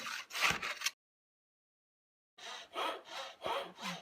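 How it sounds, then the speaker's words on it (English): A hand saw cuts a miter in egg-and-dart wood molding with even back-and-forth strokes, a short burst, a pause of silence, then several more rhythmic strokes, close and fairly quiet. "Now we're cutting the miter at the opposite end of that piece."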